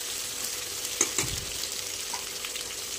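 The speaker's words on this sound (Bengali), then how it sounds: "লাল লাল করে আলুগুলোকে ভেজে নেবো।" Potatoes frying in a pan, with a steady hiss of sizzling oil throughout and a couple of brief stirring scrapes near the middle.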